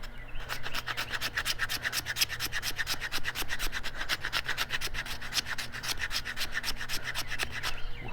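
A bushcraft knife scrapes and carves along a piece of wood, close up, in rapid, evenly spaced rasping strokes that continue without pause.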